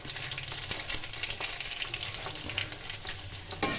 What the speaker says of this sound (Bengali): এর মধ্যে কালো জিরে ফোড়ন দিলাম।